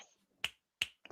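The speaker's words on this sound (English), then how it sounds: "Snaps, guys." Finger snapping, two crisp, sharp snaps about a third of a second apart followed by a quieter third, close and isolated with no talk.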